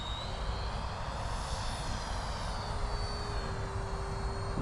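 E-flite Viper 64mm EDF RC jet with flaps down crawls slowly past on a landing approach, its steady ducted-fan whine and rush holding an even, continuous drone throughout.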